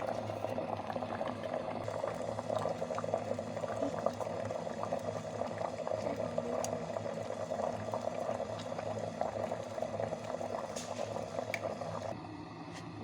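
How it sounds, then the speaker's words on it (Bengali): Egg momos boil in a covered pot, a steady bubbling simmer that stays even and moderately quiet, then drops slightly near the end. "এবার ঢাকনা দিয়ে ঢেকে দেব। 5 মিনিট মতো সেদ্ধ করে নেব।"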